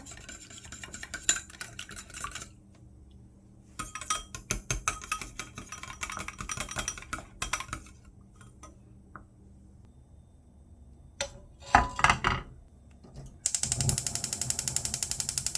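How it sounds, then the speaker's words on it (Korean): An egg being beaten in a bowl for a thin Korean egg garnish, heard as bursts of quick scraping and tapping strokes separated by pauses, close and moderately loud, with a brief louder clatter near the end. "계란 지단 만들기 위해 저어볼 건데요"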